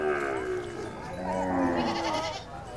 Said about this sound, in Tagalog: Mga kambing.